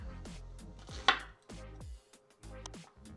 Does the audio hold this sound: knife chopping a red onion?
yes